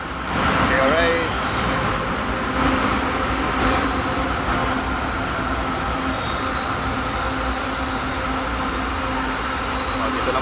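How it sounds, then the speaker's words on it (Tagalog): A light rail train rolls in nearby with steady rumbling, clattering wheels and high metallic squeals, while people talk over the noise. "Parating na yung LRT."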